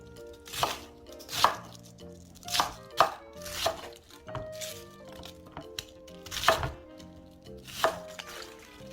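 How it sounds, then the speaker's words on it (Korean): A knife chops half of a large 1.5 kg cabbage into bite-sized pieces for water kimchi, with about ten distinct, crisp strikes against a cutting board at an uneven pace, close and clear with no talking. "중간에 있는 심지는 정리하고 먹기 좋은 크기로 썰어줍니다"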